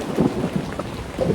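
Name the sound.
thunder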